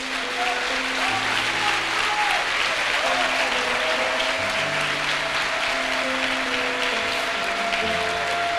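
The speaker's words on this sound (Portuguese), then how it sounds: "Dá uma linda salva de palmas ao Senhor." Congregation at a Wednesday evening church service breaking into sustained, dense applause that holds steady throughout, with organ or keyboard tones sustained underneath.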